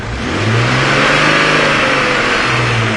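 The engine of a 2004 Jeep Cherokee with a misfire and lean fuel trim fault revs up hard and holds high, a loud close mechanical roar with a steady pitch and no voices.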